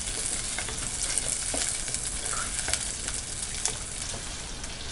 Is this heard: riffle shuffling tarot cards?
no